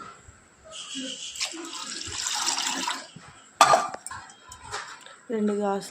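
Two glasses of water are poured over washed chana dal in a bowl to soak, a close splashing trickle lasting a couple of seconds, followed by a short knock and a brief voice.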